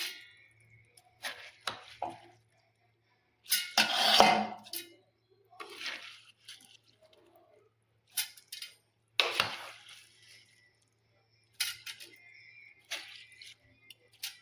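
Soaked ingredients for paddu batter are scooped into a mixer grinder jar, making close, intermittent clinks and knocks of utensils against the jar, separated by short quiet gaps.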